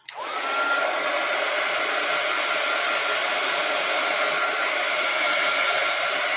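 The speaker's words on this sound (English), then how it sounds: "I'm going to heat gun to dry it." A heat gun dries a painted art journal page, switching on with a brief rise and then holding a loud, continuous airy whir with a steady fan tone throughout.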